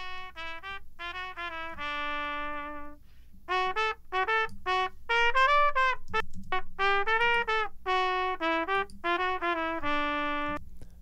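Trumpet playing a melodic run of sustained and short notes, heard alone with a thin sound because a high-pass filter cuts away too much of its low end.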